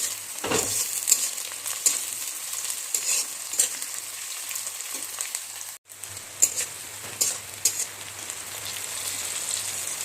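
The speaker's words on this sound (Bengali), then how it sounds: "মাছের তেলটা দিয়ে একটু নেড়ে চেড়ে নিচ্ছি আবার" Vegetables stir-fry in fish oil with a dense, steady crackling sizzle and repeated scraping as they are tossed in the pan, close and loud, pausing for a moment near the middle.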